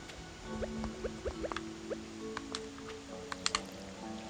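Watering can watering crops in Stardew Valley, heard as soft, quiet game splashes and drips along with scattered plucked tones and small clicks, low in level.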